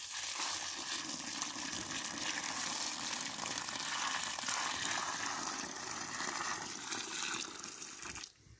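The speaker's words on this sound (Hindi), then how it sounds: "और ये जी मैं अभी पानी डालने लगा हूँ," Water gushes steadily for about eight seconds onto a newly planted guava tree in the soil, a loud continuous pour that cuts off abruptly at the end.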